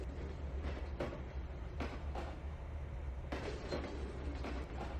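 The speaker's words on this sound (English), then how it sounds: "we're just now finishing up on the inbound train" A freight train rolls on rails in the Trainz 2022 railway simulator, a steady low rumble with periodic clicking wheel joints and metallic clanks, continuous and fairly close.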